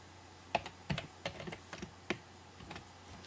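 A password typed on a computer keyboard: a quick, irregular run of close, crisp key clicks with short pauses, alone in a quiet room.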